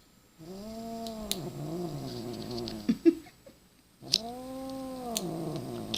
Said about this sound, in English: Kitty's not happy right now.